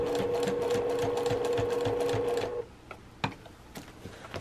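Sewing machine stitching a zippy travel bag, running in a fast even rattle for over two seconds, then stopping, followed by a few scattered clicks and knocks as the fabric is handled, close up.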